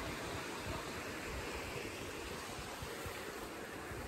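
A river rushes steadily below a mountain trail in Jasper's Tonquin Valley, a continuous broadband roar of moving water heard from above, even and unbroken throughout with no voices.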